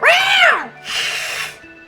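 A human voice imitating an angry cat, with a long rising-and-falling yowl followed by a breathy hiss, loud and close.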